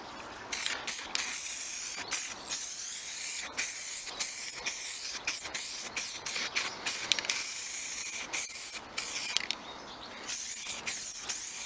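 Short bursts of spray paint hiss as a light coat of primer goes onto a guitar body, repeated quick sprays with brief gaps and clicks of the can nozzle, close and fairly loud, no speech.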